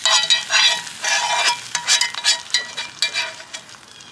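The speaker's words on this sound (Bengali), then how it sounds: "ঝোলটা দিয়ে এখন নেড়ে নেবো ভালোভাবে।" Broth is stirred into hilsa fish pulao in a pot over an outdoor fire, giving loud, close scraping and sizzling strokes in an uneven rhythm with brief pauses between them.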